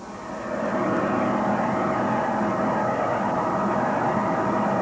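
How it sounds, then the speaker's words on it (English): Offshore powerboat engines racing at about 100 miles an hour off Atlantic City, a loud steady roar with a rough, uneven breaking-up quality, continuous and close, with no talk over it. "The engines sound a little bit strange. There is a breaking up noise coming out of there."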